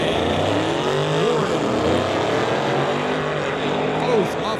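A 2013 Mustang and a Dodge Challenger launching off the line at a street-legal drag race, loud roaring engines with rising and falling revs under an announcer's voice.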